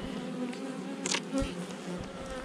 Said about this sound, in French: Il y a quand même pas mal d'abeilles.